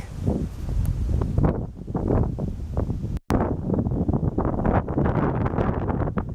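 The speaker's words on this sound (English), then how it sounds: "I bet you can hear the wind right now." Wind buffets the microphone in steady, rumbling gusts, loud and close, with a brief dropout midway; no one speaks. Recorded up on the Blue Ridge Parkway near Waynesboro, Virginia.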